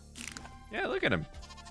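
A baby goat in Minecraft lets out a short, wavering bleat, clear and close against soft game ambience with some voice in the background.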